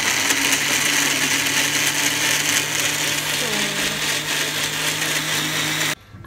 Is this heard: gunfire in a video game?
no